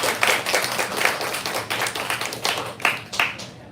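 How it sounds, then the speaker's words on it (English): Audience clapping at the end of an onstage interview, a moderately close patter of individual hand claps with uneven bursts, gradually thinning out over several seconds. "Yes, you can clap now."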